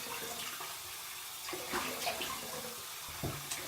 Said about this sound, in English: That is some cold water coming out of my pipes.